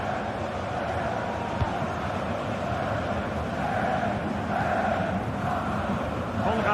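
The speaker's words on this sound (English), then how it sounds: "The crowd certainly think so. Just listen to them." Stadium crowd in a football video game, a steady dense roar of cheering and chanting that holds at an even level throughout with no voices standing out.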